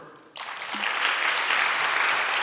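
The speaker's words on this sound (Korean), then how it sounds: "자, 여러분들 박수." A church congregation at a Sunday evening service breaks into applause, starting abruptly after a short quiet moment and building into steady, sustained clapping.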